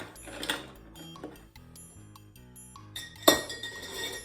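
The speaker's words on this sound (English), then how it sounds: "it's a stir drink, so you just kind of stir for about 30 seconds" Ice clinks and rattles against glass as an El Presidente rum cocktail is stirred with a bar spoon, light irregular tinkling at close range with a sharper clink near the end, no voices.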